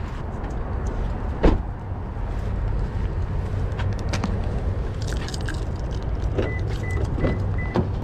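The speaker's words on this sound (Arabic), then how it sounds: "يلا بينا نركب العربيه" Someone gets into a car: a solid door thump early on, then rustling, shifting and small interior clicks and knocks over a low steady background hum.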